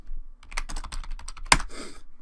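Quick bursts of typing on a computer keyboard, close and fairly quiet, a run of clicky keystrokes with one sharper key hit near the middle.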